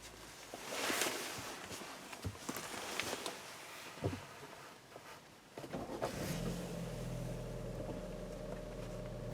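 A 2017 Ford Escape Titanium is push-button started, its engine catching partway through and settling into a quiet, smooth, low idle after some faint cabin handling noises.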